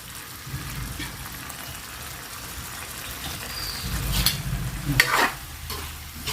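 Coconut cream bubbles and sizzles in a pan for ginataang santol while a spoon stirs and scrapes it, with a few louder scraping strokes near the end.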